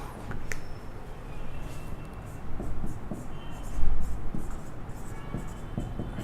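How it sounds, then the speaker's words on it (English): Pen or marker scratching out notes on a writing surface, faint scraping strokes and small taps at close range against a noisy background, without speech. "let me write down the classification"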